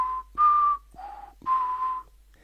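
A whistling sound effect plays as four short, clear whistled tones in succession, the pitch shifting slightly between notes, close and distinct against near silence.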